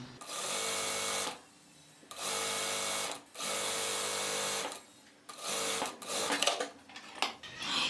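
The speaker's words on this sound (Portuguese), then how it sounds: "Aqui eu vou passar a costura em tudo que eu já overloquei." A sewing machine stitching the side seams of a pantacourt jumpsuit with cut ruffles, running in three steady buzzing bursts of about a second each, separated by short pauses, then a burst of shorter stops and starts, close up.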